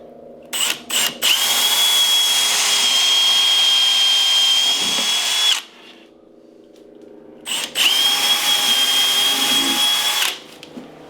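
Power drill with a 3/16 bit boring holes through a wooden cabinet for hardware, two long steady whining runs, loud and close, with a quiet gap between them and no talking.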